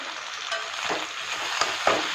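Spice masala sautéing in a pan with turmeric and salt, a steady close sizzle with a few scraping stirs cutting through.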